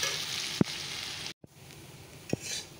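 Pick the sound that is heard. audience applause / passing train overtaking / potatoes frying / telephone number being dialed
potatoes frying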